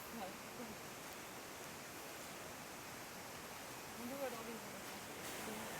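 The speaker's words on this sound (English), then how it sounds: "Sounds like there's a roaring river right over there." A roaring river in ancient Tahiti, heard as steady broadband rushing water from a distance, continuous and fairly faint, with no talking.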